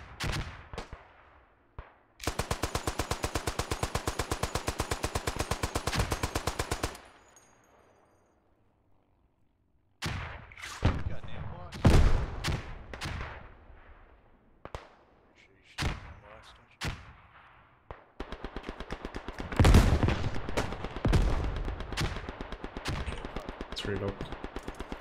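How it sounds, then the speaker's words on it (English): Gunfire and heavy machine gun fire in the World War One shooter Beyond the Wire: two long, loud sustained automatic bursts, with scattered single sharp shots and thuds between them while players talk. "Somebody's shooting on me."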